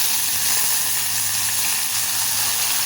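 A pan of small onions sautéing with dried red chillies and curry leaves for tiffin sambar gives off a continuous, even sizzle and hiss, close and steady with no talking.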